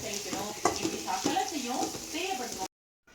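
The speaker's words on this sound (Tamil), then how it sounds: "நம்ம நறுக்கி வச்சுருக்க பல்லாரி வெங்காயத்தை போட்டு நல்லா கண்ணாடி மாதிரி வதக்கணும்" Chopped big onions sauté in a pan over a low flame, a steady close sizzle with stirring scrapes, cutting off abruptly near the end.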